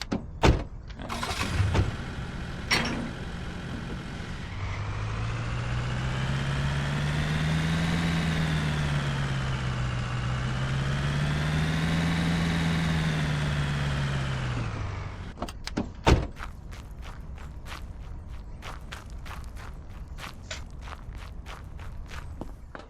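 An old dolly vehicle's engine turns over and runs for about ten seconds with a steady, slightly wavering hum, framed by clacks, thumps and footsteps before and after it stops.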